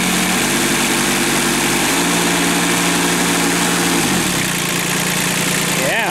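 A 10-horsepower three-cylinder engine runs steadily and vibrates hard, a loud continuous low drone with a slight shift in pitch partway through and no talking.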